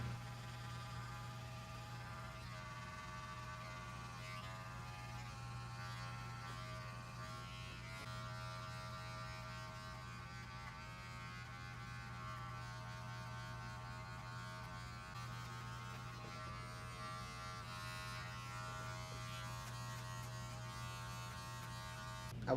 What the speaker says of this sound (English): I will now take my number 1 guard from Wahl and begin to remove some of the bulk